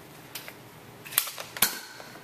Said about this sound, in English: Shooting some Nerf guns.